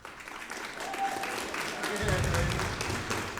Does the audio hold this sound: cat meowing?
no